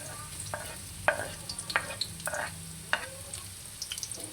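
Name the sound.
onion and garlic sautéing in oil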